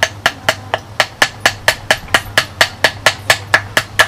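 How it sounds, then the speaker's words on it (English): A small Kershaw Tinder multitool hammer strikes about eighteen sharp, evenly spaced metallic blows, close and loud, in a steady rhythm with short ringing after each hit. "we'll test the nail puller and the hammer."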